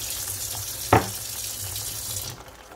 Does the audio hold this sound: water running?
yes